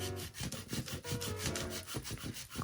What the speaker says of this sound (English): So I'm gonna take my 80 grit panda brush here. We're just gonna shape everything up.